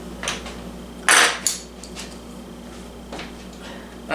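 Metal spoons clatter against a bowl or pan while making Cracker Jack cookies in a home kitchen, a few sharp clinks standing alone, one louder strike in the middle.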